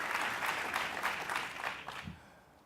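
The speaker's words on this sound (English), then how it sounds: "Please give them a strong round of applause for their self-advocacy" An audience applauds together at a New York City mayoral event, a steady patter of many hands clapping that slowly fades away toward the end, with no speech over it.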